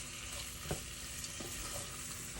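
Vegetables sizzle in a saucepan while a utensil stirs them, giving a steady frying hiss with a few soft scraping knocks, close up and without voices.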